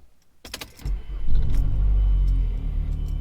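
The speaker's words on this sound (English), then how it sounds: "First start up with the passenger motor mount from Damond Motorsports installed." A 2012 Mazdaspeed 3 engine fresh from a passenger-side motor mount install starts up: a brief cranking jangle, then the engine catches and settles into a loud, steady, low rumbling idle close by.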